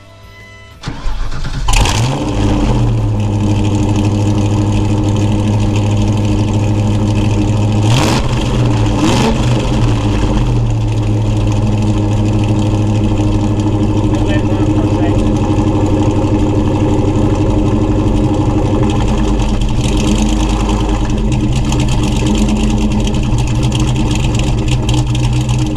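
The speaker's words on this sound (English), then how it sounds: "All right, fire it up, Eddie." A Ford Foxbody Mustang with a 417 engine cranks and fires up, then settles into a loud, rough idle with a few sharp revs, staying close and continuous with no talking.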